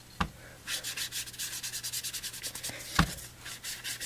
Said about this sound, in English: daub and rub, so it's just going to highlight that embossing folder